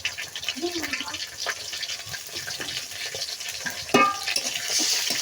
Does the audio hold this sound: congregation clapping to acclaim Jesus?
no